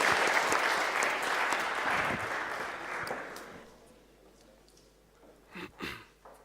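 An audience at a startup pitch final claps for about three and a half seconds, a dense, steady applause that then fades, with a few faint scattered sounds after it.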